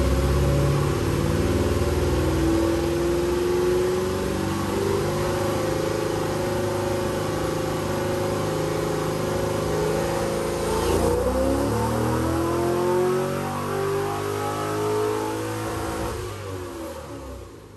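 An LS2 Pontiac GTO engine revving hard on a hub dyno, climbing steadily in pitch under load during a full pull, loud and continuous, then easing off near the end.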